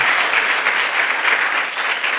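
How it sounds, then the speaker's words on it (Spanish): A church congregation applauds a pastor, a loud, close, sustained burst of many hands clapping with a slight pulsing swell and no speech over it. "Dale un fuerte aplauso a este hombre de Dios."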